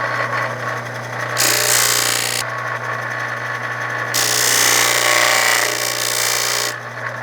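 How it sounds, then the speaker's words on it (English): A disc sander grinds down a metal shifter indicator plate in two bursts of harsh, rasping contact, with the motor whirring steadily underneath, close and fairly loud. "I'm just taking a little bit of material off of it so it sits in there happily. On the disc sander"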